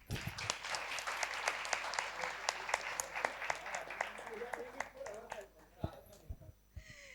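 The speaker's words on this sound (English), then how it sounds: "So I think a round of applause for that." Audience applause after a panel discussion: a dense burst of clapping that thins out after several seconds, leaving a few stray claps, with voices in the room near the end.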